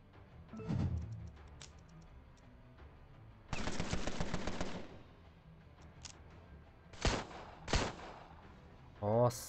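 Automatic gunfire rattles in the Prohibition-era video game Empire of Sin, with a long sustained burst and several shorter sharp volleys. The shots sound loud against a quieter background.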